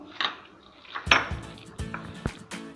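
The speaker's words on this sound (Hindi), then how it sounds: "अब सभी चीज़ों को अच्छे से मिक्स कर लेंगे।" A spoon clinks and scrapes against a bowl while chilli, lemon juice and spices are mixed. The sound comes as a few sharp, close metallic taps and scrapes with short quiet gaps between them.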